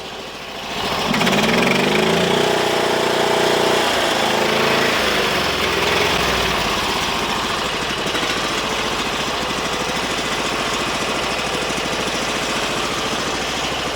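A Briggs 20Hp V-twin engine on a Sears Suburban loader starts, then runs steadily at a loud, rough idle. The fuel is shut off and the engine keeps running close by, with no voices.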